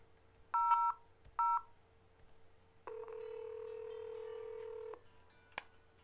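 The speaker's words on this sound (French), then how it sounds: "On va refaire l'appel par en appelant le 1000." Extension 1000 is dialed on a VoIP phone: a few short, crisp keypad tone beeps, then a sustained steady tone lasting about two seconds and a final click, all close and clean against near silence.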